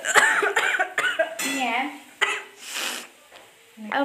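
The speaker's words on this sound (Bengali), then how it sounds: "এত খুশখুশি গলাতে কাশি হয়ে গেল" A few sharp coughs from a close voice, mixed with brief speech and light kitchen clatter in the background.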